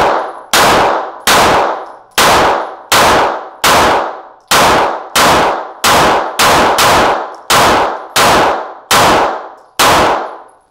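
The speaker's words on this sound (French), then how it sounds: "on va tirer avec le Alien" Around fourteen sharp, loud shots from the Alien piston pistol, fired one at a time in a steady, evenly spaced rhythm, each a crisp crack with a short ringing decay, and no talking.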